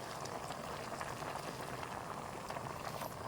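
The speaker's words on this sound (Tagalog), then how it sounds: "papakuluin lang yan" Water bubbles at a steady boil in a cooking pot holding leafy greens such as water spinach, a dense, continuous wash of bubbling heard up close with no voices.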